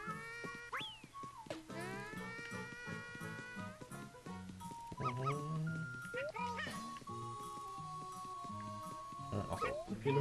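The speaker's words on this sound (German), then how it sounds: "Den Hund gehört." A dog in the video game Yoshi's Crafted World yips and whimpers in short bursts amid bouncy game music and sound effects, with voices talking over it.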